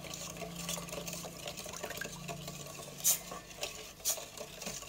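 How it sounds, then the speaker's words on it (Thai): Coconut cream and sugar, with a pinch of salt, simmer gently in a pot over medium-low heat, with a soft bubbling wash, quiet stirring, and a few clear clinks of a utensil against the pot. "แล้วเราก็เคี่ยวให้น้ำตาลทรายกับหัวกะทิเข้ากันนะครับด้วยไฟกลางค่อนอ่อนนะครับ"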